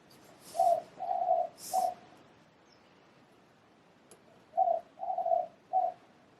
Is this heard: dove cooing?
yes